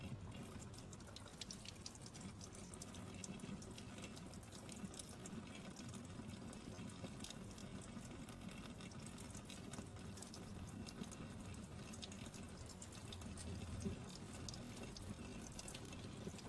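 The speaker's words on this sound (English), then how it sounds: "rinsed them with clean water" Tap water runs steadily while a small girl's soapy hands are rinsed at a faucet, a continuous close splashing wash with no talk over it.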